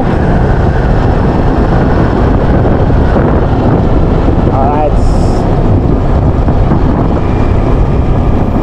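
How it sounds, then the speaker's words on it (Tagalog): Strong wind buffeting the microphone in a continuous loud rumble during a ride, with a brief spoken word partway through. "Ang sarap ng simoy ng hangin."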